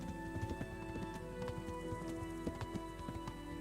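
Horse hooves pound in a quick galloping rhythm during a race in the video game Kingdom Come Deliverance, repeated thuds sitting over a sustained musical drone at a moderate level.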